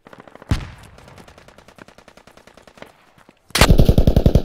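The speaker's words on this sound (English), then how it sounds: "Behind, shots fired." Gunfire in the video game Squad: a loud rapid burst of automatic fire, a string of quieter fast shots, a brief pause, then another loud sustained machine-gun burst.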